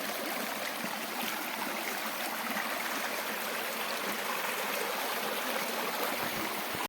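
Steady stream water rushes and splashes over stones in a bathing spot, a constant broadband wash that stays even and fairly loud throughout with no voices.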